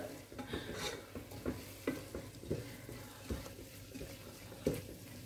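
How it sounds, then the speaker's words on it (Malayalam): Ground paste for Ambur chicken biryani being stirred and sautéed in a pan over a medium flame, with soft steady sizzling and repeated scraping stirs close by. "അരച്ച പേസ്റ്റ് അങ്ങ് ചേർത്തു ചേർത്തിട്ടൊരു രണ്ട് മിനിറ്റ് കൂടി ഒന്ന് വഴറ്റുക"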